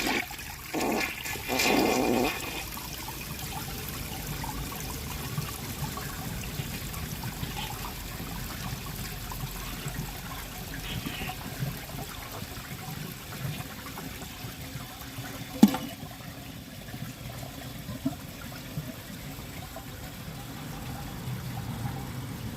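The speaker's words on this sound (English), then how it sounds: "I'm going to hold the handle now and see how it flushes" A Mansfield Denali toilet flushes with its handle held down: a sharp opening clunk and gush, then a long, steady rush and trickle of water swirling in the bowl, with a brief knock partway through.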